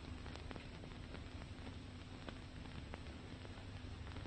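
Steady rain falls in a dull, quiet town setting, a soft, continuous hiss with faint scattered drops, even and unbroken throughout with no voices.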